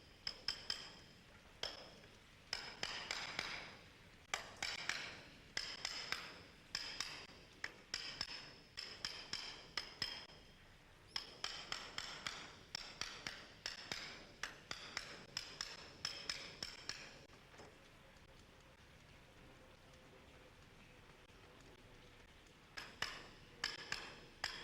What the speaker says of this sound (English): Light hammering causes them to expand and attach the lead sheet mechanically